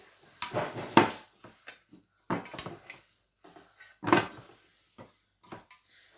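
A spoon mixing a wet mixture in a bowl, with a few sharp scraping clinks and knocks against the bowl's sides, spaced irregularly with quiet gaps between them.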